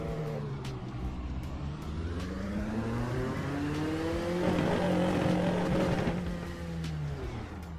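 A race car engine in the iRacing simulator pulls out for an opening lap, droning steadily and rising in pitch as it accelerates through the gears, loud and close with no talking.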